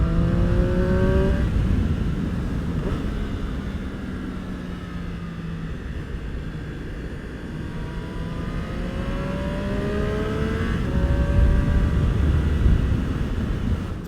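A Triumph Street Triple RS motorcycle rides on a road, engine pitch climbing and falling repeatedly through the gears, with steady wind and road noise throughout.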